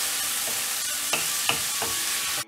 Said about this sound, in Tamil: பூண்டு நல்லா ஃப்ரை ஆன உடனே தக்காளி ஆட் பண்ணிடலாம். நல்லா ஃப்ரை பண்ணிடலாம்.